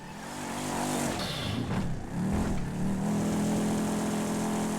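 A game car in GTA roleplay accelerates hard, its engine revving loud and steady with a brief dip around a gear change before pulling on strongly.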